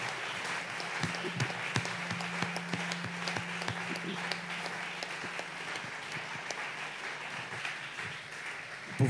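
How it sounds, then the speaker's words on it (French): A church congregation at a Sunday service applauds steadily for several seconds, a dense crowd of clapping with a faint sustained voice or tone underneath partway through. "nous allons acclamer la parole du Seigneur"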